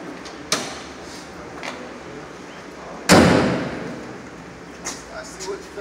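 A single heavy car door thud from a Honda at a dealership lands midway, with a fainter knock earlier and light rustling around it.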